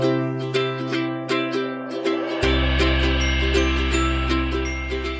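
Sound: ukulele and glockenspiel music

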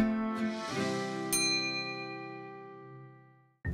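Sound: notification bell ding sound effect

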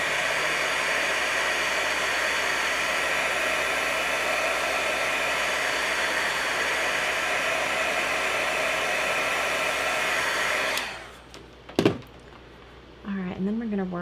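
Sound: heat tool drying watercolor on a card

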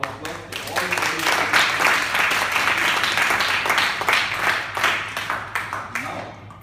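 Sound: meeting audience applause

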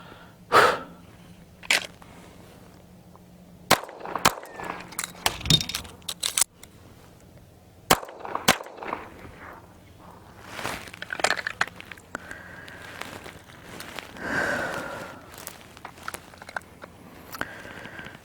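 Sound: pistol shots at target practice

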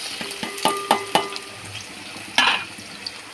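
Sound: onions and green chillies frying in hot oil

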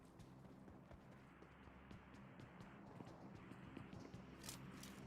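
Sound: footsteps in the video game PUBG Mobile

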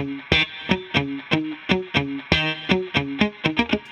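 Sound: electric guitar through amp simulator effects

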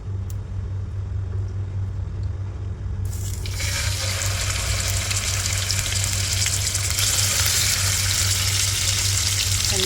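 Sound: marinated chicken pieces frying in coconut oil

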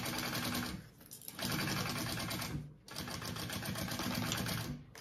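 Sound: sewing machine basting a pocket onto a crossbody bag

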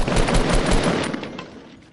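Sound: gunshots in a video game

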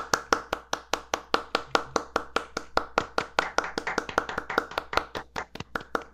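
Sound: applause

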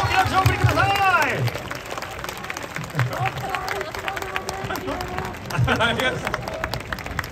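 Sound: audience applause at Tokyo Dome

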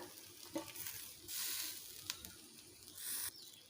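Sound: green chillies sizzling in the pot for dalia khichuri

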